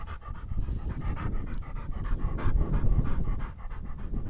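A dog pants steadily and close up in rapid rhythmic breaths throughout, with no talking, during an outing at a quarry.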